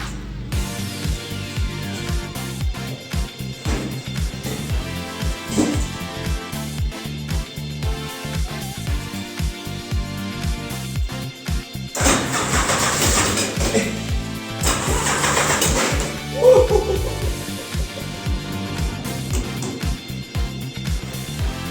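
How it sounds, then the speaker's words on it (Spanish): A tubular-frame drift car's engine cranks and catches in gear, with bursts of starter and engine noise rising over a rumbling background, and one louder sharp surge near the end. "le vamos a dar a arrancar con una marcha puesta a ver si se mueve ya por sus propios medios"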